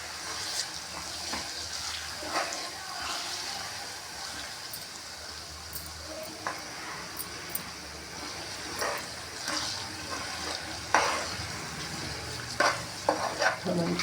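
Amla (Indian gooseberry) pickle being stirred with oil in a pan, with scraping and wet mixing strokes over a soft sizzle, louder scrapes recurring irregularly near the end.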